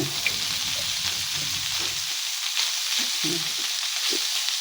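Pork frying in a pan for Bicol Express, a steady close hiss of sizzling with bursts of stirring and spatter, continuous throughout with no talking.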